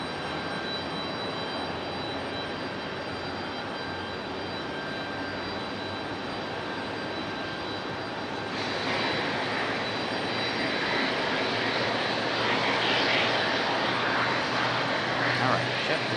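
JetBlue jet airliner engines at Raleigh Durham International Airport, a steady roar that swells louder about halfway through as the engines spool up, continuous and fairly distant.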